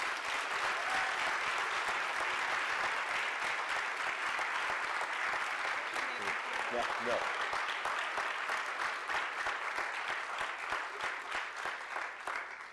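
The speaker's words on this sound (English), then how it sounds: "Let's give them another round of applause" Loud, sustained applause from a large audience, dense clapping filling the room and holding steady before easing off slightly near the end; a brief voice surfaces.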